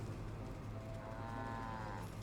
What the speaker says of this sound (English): Luckily, there's a cow right over here.